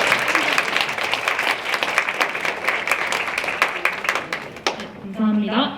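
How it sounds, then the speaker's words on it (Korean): A crowd at a Korean purity ceremony in Daegu-Gyeongbuk claps in loud, dense, sustained applause. It cuts off near the end, where a voice begins speaking. "그럼 감사의 의미로 박수를 치면서 시작하도록 하겠습니다."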